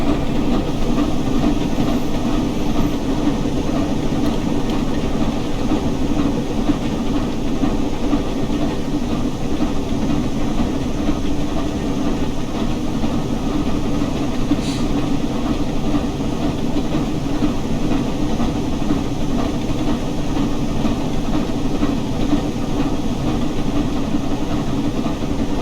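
The Flying Scotsman steam train runs along the rails near Miles Platting, giving a steady, continuous rumble and rattle of wheels and carriages from close by, unbroken and even in level, without speech.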